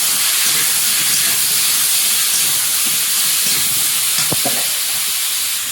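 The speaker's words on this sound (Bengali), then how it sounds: "হলুদ গুঁড়ো, নুন হলুদ দিয়ে ভালো করে ভাজবো।" Small homegrown taro pieces fry in a pan with turmeric powder and salt, a loud continuous close sizzle and hiss with occasional brief stirring knocks.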